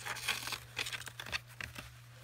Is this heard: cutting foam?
yes